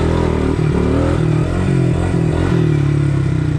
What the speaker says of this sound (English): I hit a good wheelie for the video.